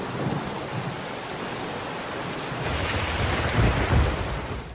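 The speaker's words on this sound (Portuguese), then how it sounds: "Tá vindo a tempestade" Thunderstorm with heavy rain hissing steadily and deep thunder rumbling louder in the second half, a dense continuous roar with no voices.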